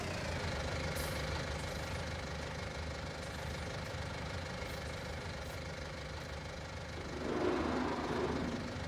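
An Armatrack tractor engine idles steadily in Farming Simulator 19, a low continuous knocking rumble that swells slightly near the end.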